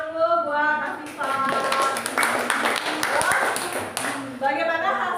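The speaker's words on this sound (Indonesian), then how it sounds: "kasih tepuk tangan dulu buat Asifa." A classroom of students gives a student a round of applause, a dense burst of many hands clapping for about three seconds, with a teacher's voice speaking before and after.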